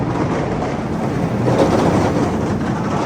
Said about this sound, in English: Now that train's a little rattly,